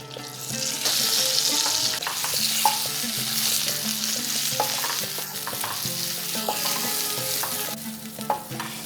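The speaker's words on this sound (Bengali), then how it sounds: "প্রথমেই আমি সিদ্ধ করা আলুগুলোকে হালকা করে ভেজে নেব।" Boiled potatoes frying in a little oil with turmeric: a bright, continuous sizzle near at hand, broken by repeated clicks and scrapes of a spatula turning the pieces, with no voices.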